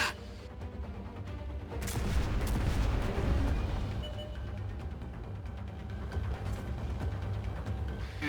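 Heavy, rumbling artillery explosions and booming blasts in a video game roll on continuously, loud and dense, with a low thundering undertone and no voices.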